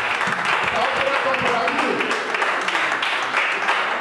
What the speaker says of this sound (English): Keep on clapping unto the Lord